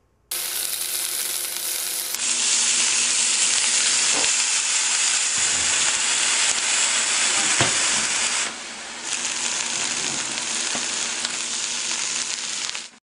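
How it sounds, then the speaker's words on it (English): Salami and ham sizzle steadily in a hot frying pan for a Cuban sandwich, a loud continuous hiss of frying with a few soft clinks and stirring touches along the way. "The nice sizzling flavor of the salami and the ham getting heated up for our Cuban sandwich"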